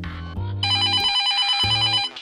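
A telephone rings close by with a loud electronic ring in repeating pulses of bright tones over a lower buzzing tone, heard alone with no voices.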